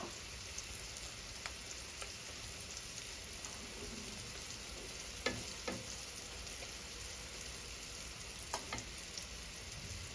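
Eggs with clams and pumpkin shoots frying in a pan, a quiet, steady sizzle with a few soft pops and scrapes scattered through, and no talk.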